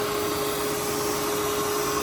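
An Ecovacs Deebot N20 Pro Plus robot vacuum cleaner runs with a constant, fairly loud whirring hum and a steady tonal whine, without any pause.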